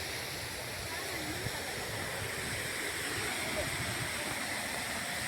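Steady rushing water flows beside a river near a dam in Bhutan, a broad continuous roar that holds even and close throughout with no voices.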